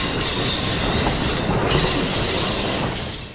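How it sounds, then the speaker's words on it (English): An Amtrak Acela passenger train races past on track 1 at a Norwalk, Connecticut station, a loud, close roar with rhythmic wheel clatter and a brief squeal, tapering off at the end. "First Amtrak Acela 2252 passes by on track 1."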